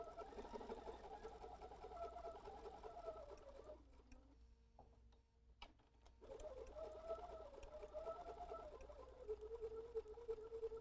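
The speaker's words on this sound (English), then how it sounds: "Notice I did a little quick back stitch there." A sewing machine stitches a fabric face mask, its fast rhythmic needle clatter running close and steady, pausing briefly for a quick back stitch before resuming at full speed.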